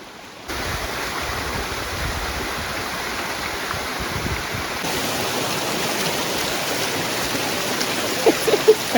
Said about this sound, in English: kind of a nice spot if you wanted to like cool off your feet or even go for a swim